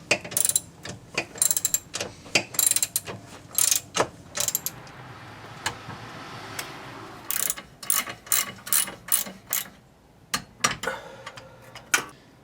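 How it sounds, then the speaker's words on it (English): A ratchet wrench torques M12 bolts on the rear subframe of a BMW E46, giving close, loud bursts of rapid clicking in irregular runs separated by short pauses, with no voices. "Then we're going to torque both of those."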